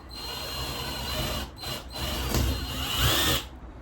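A power drill bores a pilot hole through a van ceiling during a camper van build, a close, loud whining buzz with brief pauses and shifts in pitch as the bit cuts through.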